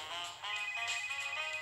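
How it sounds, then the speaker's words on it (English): A phone ringtone rings in the video game Tokyo Afterschool Summoners, a steady bright electronic tone that holds with a faint pulsing shimmer, clear and alone at moderate volume. "I'm getting a phone call."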